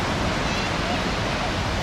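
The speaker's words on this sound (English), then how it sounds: "I see the waves coming in a lot inside the beach." Surf rolling in at Troya Beach in Playa de las Americas, Tenerife, a steady broad wash of breaking waves that fills the whole moment, loud and unbroken, with no distinct individual crash.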